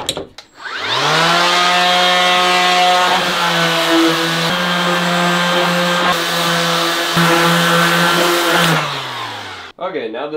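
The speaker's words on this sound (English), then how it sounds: "I'll clean this one up a little bit with the jigsaw" A jigsaw cutting pallet wood pieces, loud and close, runs in one long steady buzzing pass of about eight seconds with small dips in pitch under load, then winds down into a brief clatter.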